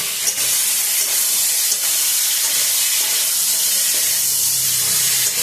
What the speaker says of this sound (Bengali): এবার সব মাছ না, অল্প একটু মাছ দিয়ে ভাজবো।